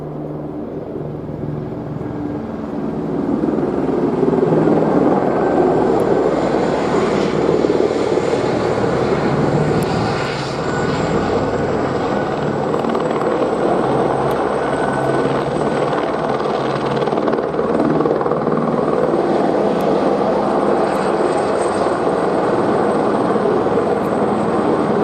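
A helicopter on a delivery flight circles overhead and comes back around, its steady rotor and engine roar loud and continuous throughout, swelling slightly as it nears, with no talking.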